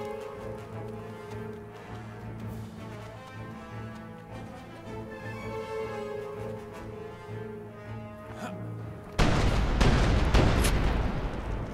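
A cannon fires in the survival video game Smalland, one sudden loud boom that cuts in near the end after a stretch of sustained tonal game music.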